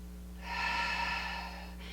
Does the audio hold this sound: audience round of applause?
no